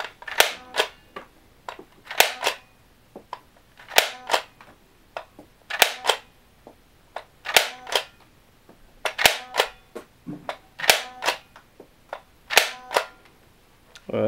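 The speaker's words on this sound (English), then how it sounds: "I'm going to start with the disc launcher, which is just the top trigger." An Air Zone Dual Ammo Blast toy blaster fires discs in a run of sharp, close plastic snaps, often in quick pairs, repeated about a dozen times with short pauses between.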